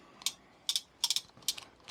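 Bolts being tightened on a Vespa Ciao moped engine, four short bursts of quick metallic ratchet clicks with brief pauses between, close and fairly quiet.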